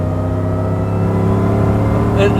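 A supercharged LS-swapped Chevrolet Suburban launches hard, its loud engine droning steadily as it accelerates, with a brief high squeal near the end.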